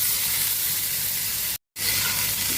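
Quail eggs and local potatoes fry in a pan while being stirred, a loud, steady sizzle and hiss that fills the clip with only a brief dropout.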